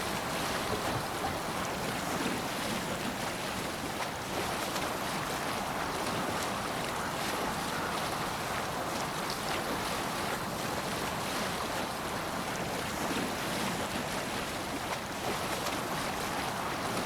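Sailboat under way on open ocean in Assassin's Creed Valhalla, a steady wash of waves and wind with rumbling hull noise, continuous and even throughout.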